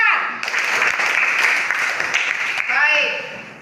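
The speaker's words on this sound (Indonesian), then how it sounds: "Tepuk tangan." Students clap together in a classroom, a short, bright burst of applause lasting about three seconds that ebbs briefly and then fades, with a voice over it at the end.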